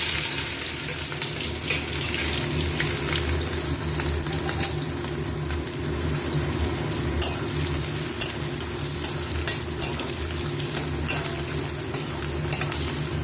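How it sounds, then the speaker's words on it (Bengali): Small chopped potatoes and onions fry together in hot oil, giving a steady, rushing sizzle with scattered light clicks and stirring taps and no speech. "এবার দিয়ে দেবো হচ্ছে ছোটো ছোটো করে কেটে রেখেছি আলু আর পেঁয়াজ, এই দুটো একসঙ্গে ভাজবো"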